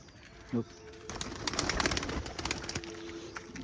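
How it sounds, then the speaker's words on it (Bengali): One short, low pigeon coo sounds near the start, followed by soft rustling, fluttering and clattering noises nearby. "সকাল কবুতর উড়াইছিলাম একটা কবুতর নেমে আসছে"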